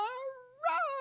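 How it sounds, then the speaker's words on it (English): A pet cat lets out a loud, close, drawn-out yowling scream that rises and dips in pitch, with a second surging wail after a short sag. Nothing else is heard. "This one's my favorite Baloo scream because he winds up 3 times for it."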